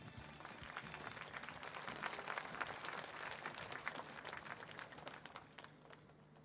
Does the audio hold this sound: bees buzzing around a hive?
no